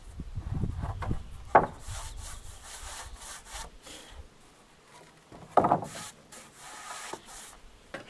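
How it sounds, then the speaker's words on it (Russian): A hand saw cuts through a wooden corner joint with quiet, uneven rasping strokes, close by, broken by a couple of sharper scraping bursts and short pauses between strokes. "Вот так вот сейчас пополам пилю угол и все стыкую."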